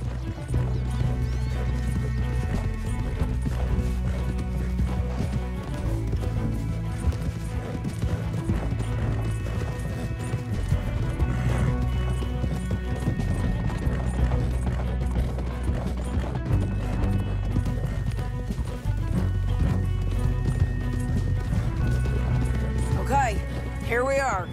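Horses galloping in Red Dead Redemption 2, rapid clip-clop hoofbeats running steadily under a dense game soundtrack with crashes and voices.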